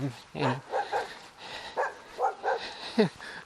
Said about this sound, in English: we've got a dog up ahead who's bouncing around all over the place